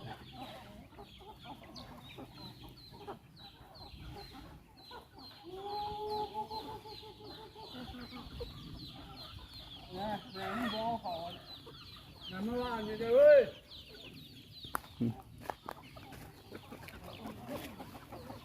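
A flock of chickens scratching and foraging on the ground clucks repeatedly, with several drawn-out rising calls standing out over soft background rustle, close and moderately loud.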